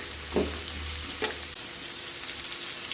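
Vegetables sizzle in oil in a pan with a constant bright hiss, while two quick scraping stirs of a spoon cut through the frying noise.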